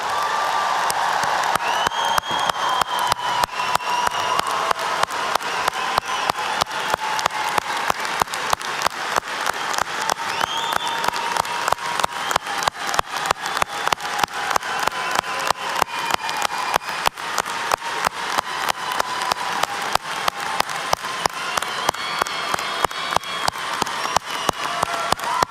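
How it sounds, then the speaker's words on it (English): A large commencement crowd gives a long, sustained round of applause for the graduating class of the College of Agricultural Sciences at the Spring 2025 ceremony, thick, even clapping that rolls on steadily, with scattered cheers mixed in. "let's all give the class of 2025 a round of applause"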